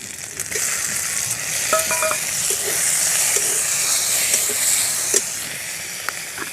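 Chopped tomato sizzles and hisses in hot oil with ginger-garlic paste in a chicken ghugni pan, a steady close frying crackle with occasional stirring scrapes and a faint tap or two.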